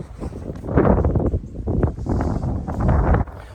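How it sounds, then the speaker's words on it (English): Strong wind buffeting a microphone outdoors near horses, loud irregular gusts rumbling in bursts with brief lulls between them. "the wind started blowing really bad here"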